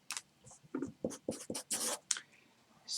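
Pen or pencil writing on paper during a math review, heard up close as a quick series of scratchy strokes and taps in short bursts over a few seconds, with no talking.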